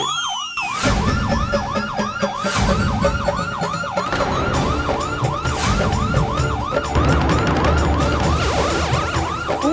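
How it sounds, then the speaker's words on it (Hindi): A loud police siren wails in rapid, repeating yelp cycles, close by and continuous, with some background rumble and noise beneath it. "सच में पुलिस का सायरन बज रहा है।"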